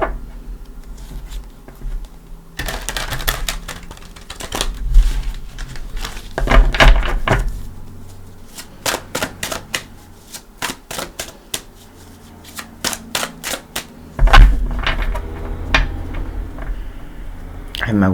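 Tarot Dreams tarot cards are shuffled by hand in a few separate bursts of crisp, fluttering riffles and soft slaps, close and fairly loud, with quiet pauses in between.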